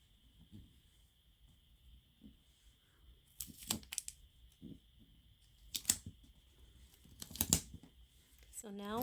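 Sticky tape torn off a roll in three short ripping bursts and pressed down over friendship bracelet threads, with soft rustles and handling sounds between the rips and a steady faint high whine underneath.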